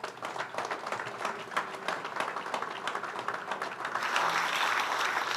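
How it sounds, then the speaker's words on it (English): Audience applause after the inaugural address at a joint presidential inauguration, a broad wash of crowd clapping heard from a distance that swells louder near the end. "One more round of applause for the inaugural address."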